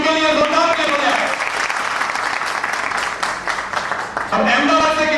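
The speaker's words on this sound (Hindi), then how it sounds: "इनके लिए जोरदार ताली हो जाए" Audience applause at a gathering swells into a loud, continuous clapping burst, with a voice heard briefly at the start and again as it tapers off.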